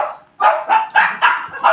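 A puppy barks five times in quick succession, loud and close, each bark short and sharp, outdoors.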